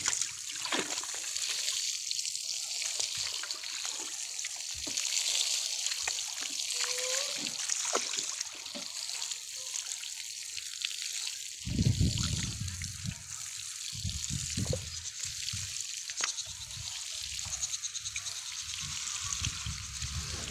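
Water pours and trickles steadily from a homemade garden watering pipe onto vegetable plants, a continuous splashing flow with a heavier, fuller gush partway through.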